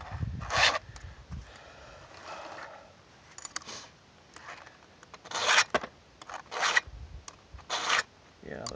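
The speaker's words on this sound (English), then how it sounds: "the field sharpening with the stump vise isn't the most ideal way to sharpen chainsaws" A file rasps on the chain of a Stihl MS 290 chainsaw clamped in a stump vise, giving a series of short, bright scraping strokes in irregular bursts, close up, with a few quiet pauses.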